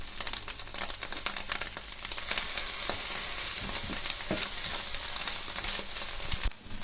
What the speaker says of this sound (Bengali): আমার ভেজিসগুলো অলমোস্ট ফ্রাই ডান।